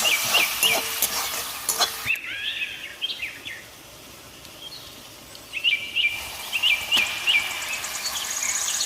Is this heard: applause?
no